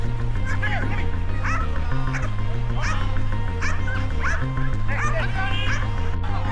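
Several trained German shepherd attack dogs bark and yelp in repeated bursts in an arena over loud, steady background music, with a voice talking underneath.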